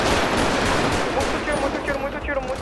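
In a GTA 5 roleplay street fight, heavy, rapid gunfire crackles in dense overlapping bursts, loud and continuous, with excited voices talking over it.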